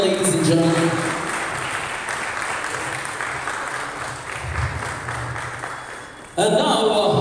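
Audience applause at a Maruti Suzuki Jimny launch event at a Bangalore car showroom, steady dense clapping throughout with a host's voice talking over it at the start, then speech resuming loudly near the end.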